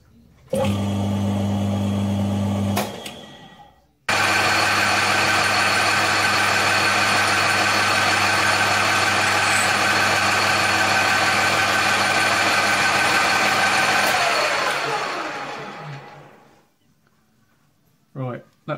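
Machine boring out the cylinder of a Kerzel hit and miss model engine, a loud steady mechanical drone that cuts briefly and restarts, then runs long before winding down, with a person talking.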